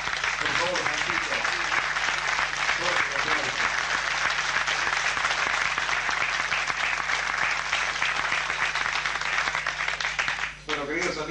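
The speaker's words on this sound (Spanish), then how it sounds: "pido otro fuerte aplauso" A loud, sustained ovation from a tango tribute audience, many hands clapping densely for over ten seconds, with a few voices faintly mixed in and a low steady hum underneath.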